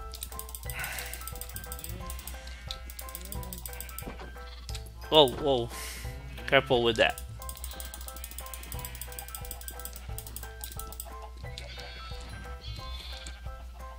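Minecraft sheep on a farm: two short bursts of bleating close by, with someone talking over the game's background sounds.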